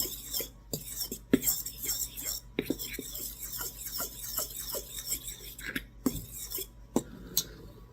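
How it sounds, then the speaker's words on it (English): A fork stirs dry ingredients in a bowl for almond heart cookies, giving close, repeated scraping clinks and light taps in an irregular rhythm, with faint whispery sounds in the background. "I'm going to take a fork and I'm going to stir this around, pre-stir it"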